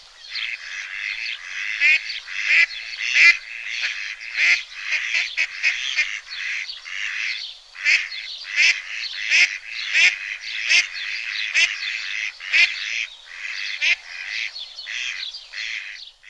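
Domestic geese honk loudly and close in a rapid, continuous series of harsh calls, overlapping one another with barely a pause throughout.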